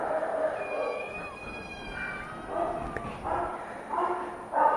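Cats at an animal shelter, with scattered meows and mews and what sound like small yips or whimpers amid a busy indoor hum, moderately close.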